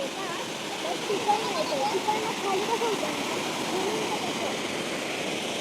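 A waterfall in the Konkan during monsoon roars in a constant, broad rush of water, loud and unchanging throughout the clip.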